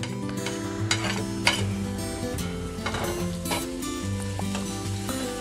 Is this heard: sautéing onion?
yes